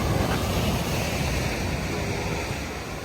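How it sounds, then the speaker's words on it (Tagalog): Broadband wash of Mediterranean Sea waves and wind, steady and loud, with no voices. "dito po yung alon"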